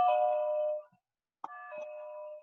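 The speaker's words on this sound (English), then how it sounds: "we're gonna have fun with this doorbell" An electronic doorbell chimes twice with ringing, sustained tones. The first note rings out and fades, and a second chime follows after a brief silence, clear and close in a quiet room.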